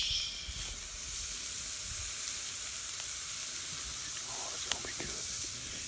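Bacon-wrapped oysters sizzle on a lump charcoal grill, a steady close hiss and crackle with a few sharper pops near the end, no talking.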